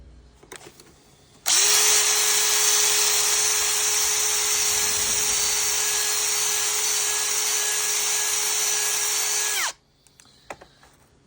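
Power tool whirring on car bolts taken from the front shocks of a 2011 SEAT Leon 1.2 TSI, one loud steady high-pitched run of about eight seconds between quiet handling noises.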